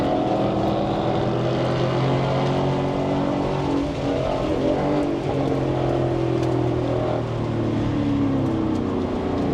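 An 800-horsepower Ford Mustang races on a track, its engine a loud, continuous, close roar with shifting tones as it accelerates and holds speed, and no speech.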